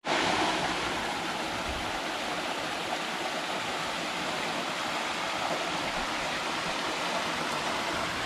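A waterfall at Wadi Kharar near Mecca, Saudi Arabia, roars in a constant, dense rush of falling water, loud and unbroken throughout.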